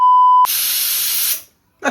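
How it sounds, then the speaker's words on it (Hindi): A pressure cooker whistle gives a loud, steady hissing blast for about a second after a short beep tone, then cuts off into silence. "सीटी मार रहा कुकर तेरे को देख के।"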